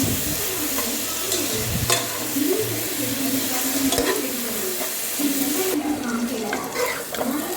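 Chicken for a Kerala-style chicken curry sizzles steadily in a pan while being stirred, with scraping strokes under the constant frying hiss and no talk.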